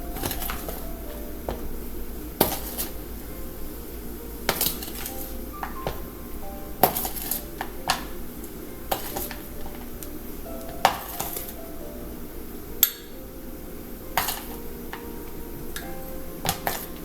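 Light clinks and taps of a bowl and utensils while powdered sugar is added for chocolate frosting, scattered sharp ticks over a quiet kitchen background.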